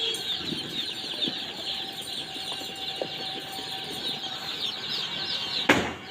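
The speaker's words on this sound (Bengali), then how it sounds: "এটা দেশি মুরগি।" Native chicken chicks in a poultry shed make a dense, continuous high peeping chorus with occasional wing flutters and a sharp knock near the end, with no speech.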